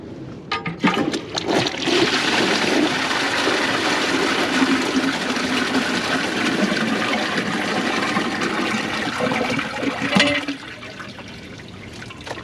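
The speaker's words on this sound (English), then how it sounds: "That's flush one." A 2015 Kohler Wellworth toilet with a Class 5 Portrait Lite tank flushes in one loud, sustained rush of water lasting about ten seconds before it eases into a trickling refill, close and with no talk.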